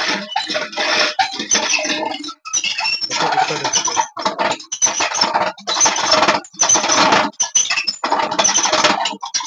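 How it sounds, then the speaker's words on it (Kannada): A manual honey extractor holding four decapped frames is cranked by hand, giving a continuous metallic whirring and squeaking with short gaps as the rotation slows and restarts, close and fairly loud. "4 ಫ್ರೇಮು ಡಿ ಕ್ಯಾಪ್ ಮಾಡಿ ಇಟ್ಟ ಮೇಲೆ ನಾವು ಇದನ್ನ ರೊಟೇಟ್ ಮಾಡಬೇಕು."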